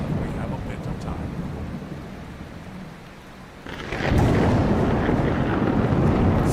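Thunderstorm in Mount & Blade II Bannerlord with rain and a low rumble. The storm eases briefly, then a loud crack of thunder breaks into a heavy, sustained roar of rain and rolling thunder.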